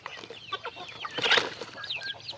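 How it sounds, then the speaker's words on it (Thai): Vietnamese Dong Tao dragon chickens cluck repeatedly at close range, a busy overlapping stream of short calls with a brief louder squawk and rustle midway. "มาจากเวียดนามไก่มังกร"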